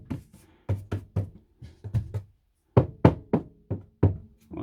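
Knuckle knocks on a hollow interior panel of a Malibu i490le motorhome, about a dozen close, loud raps in small uneven clusters with short silences between.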